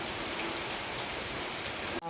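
Rain falling steadily, a dense, even hiss of drops hitting surfaces nearby, loud and continuous with no other sounds, cutting off abruptly at the end.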